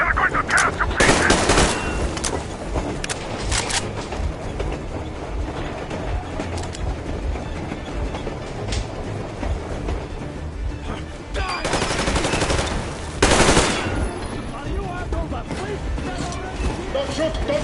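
Gunfire in the video game Metro Exodus, sustained bursts of automatic fire and loud shots with a few louder blasts, heavily mixed with shouting voices throughout.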